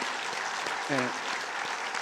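A church congregation claps steadily to welcome a pastor, a dense, even wash of applause with a brief voice rising partway through.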